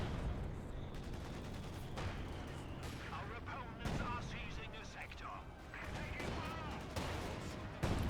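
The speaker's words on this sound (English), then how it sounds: "More shots fired there." Gunfire in Company of Heroes 2, a World War II real-time strategy game: repeated rifle and machine-gun shots and artillery thuds in a dense, continuous battle mix, with a commentator talking throughout.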